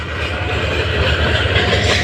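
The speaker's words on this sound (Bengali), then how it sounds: "ওই লাইন দিয়ে আরও একটি ট্রেন যাচ্ছে" A train rolls past on the adjacent line near Tongi station in Bangladesh, a loud, steady rumble of wheels on track with rhythmic clatter, heard from aboard another train.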